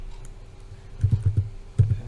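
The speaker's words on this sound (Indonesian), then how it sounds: "tinggal di sini ketik misalnya" Keys clatter on a computer keyboard while a short word is entered into a Blogger ad-setup form, two quick bursts of close, soft clicks separated by a brief pause.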